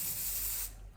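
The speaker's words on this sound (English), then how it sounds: "holding spray. You're just gonna spray it at the back" Hair holding spray hisses in one steady, close burst onto a closure wig install, then cuts off sharply, leaving a quiet room.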